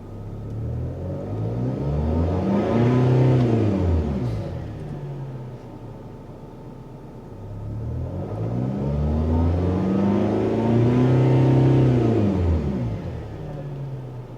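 A Mercedes Sprinter van with an OM 654 diesel engine runs at high idle, rising and falling through two slow, close revving swells with a low rumble between them.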